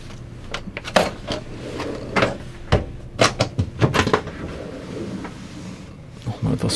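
Kitchen drawers sliding open and shut in a 2021 Sunlight T68 Adventure Edition motorhome on a Fiat Ducato, a quick series of close thuds, rattles and clicks.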